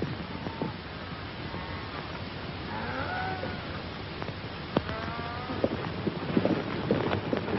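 A herd of cattle being driven on a cattle drive lowing and bleating over a steady rumble of many hooves, with scattered clip-clops and distant calls, no talking.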